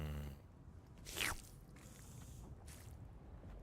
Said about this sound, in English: It's slurped. That sounds weird.